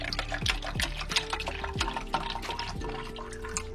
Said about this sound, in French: Le remplir d'eau pour ensuite disposer les ronces dedans.